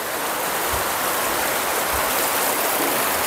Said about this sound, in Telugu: కానీ వాటర్ ఫ్లో పెరుగుతుంది